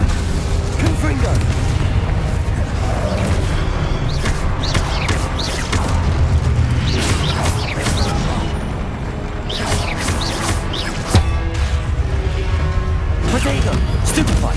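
Confringo explosive spells burst in a hectic Hogwarts Legacy duel, a rapid series of sharp booms and crashes layered over continuous rumbling combat noise.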